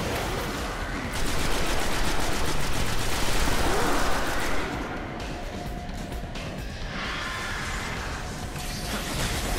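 Rapid gunfire rattles in dense, continuous bursts during a firefight with a wizard enemy in the co-op shooter Destiny, loud and sustained across the scene with brief swells.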